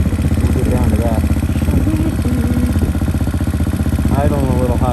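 A 2020 Hawk 250 DLX EFI motorcycle engine idling slightly high, a loud, close, steady rapid putter with mechanical clatter throughout, and a voice speaking over it briefly.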